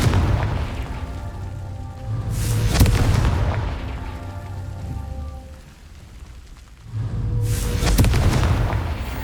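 Two broad explosive blasts from the Confringo spell in Hogwarts Legacy, each a loud rumbling burst with a crackling tail, separated by a quieter stretch of ambient rumble; no talking.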